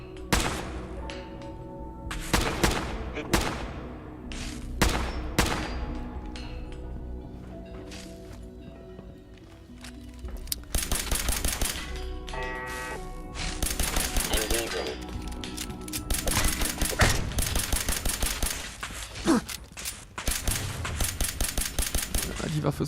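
Weapon fire in Fallout 4 crackles in rapid bursts and single sharp shots, loud and repeated across the stretch, with game effects and someone talking between volleys.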